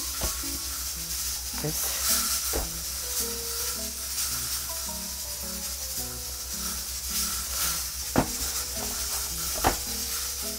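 Food sizzles steadily in hot oil in a home kitchen with garlic pieces being added, the frying hiss continuous and close with stirring scrapes and a couple of sharp knocks, while someone speaks briefly.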